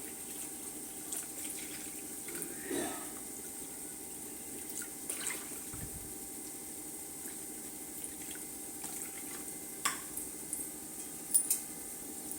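About two and a half cups of water are poured into a cup of curd in a kitchen for buttermilk upma, a faint, soft splashing trickle with a few small clinks, no voices.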